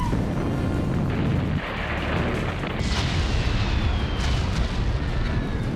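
Heavy bombing explosions from an Israeli air attack on southern Lebanon and Beirut form a dense, continuous roar of booms and rumbling, loud and sustained throughout.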